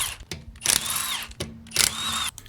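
A power impact tool removes lug nuts from a car wheel on an Acura TSX, firing in two loud, close bursts of whirring rattle separated by a short pause.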